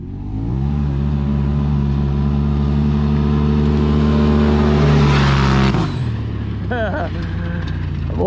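Two UTVs drag racing side by side, a Can-Am Maverick X3 RR rated at 195 hp against a Polaris RZR Pro XP at 181 hp: a loud, sustained engine roar holds for about six seconds, then cuts off abruptly, leaving quieter crowd noise and talk.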